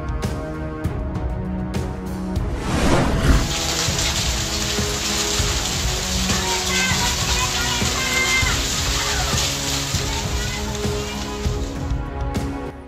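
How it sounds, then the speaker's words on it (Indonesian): Heavy rain mixed with hail pours down in Bogor on a Wednesday afternoon, a dense, steady roar of drops drumming on surfaces, with faint voices in the background. "hujan deras mengguyur sejumlah wilayah di Bogor pada Rabu sore"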